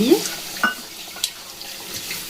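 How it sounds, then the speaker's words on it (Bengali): Water splashes into a hot pressure cooker coated with leftover taro curry gravy, giving a few brief, soft pours and hisses over a faint background. "একটুখানি আমি গরম প্রেশার কুকারে জল"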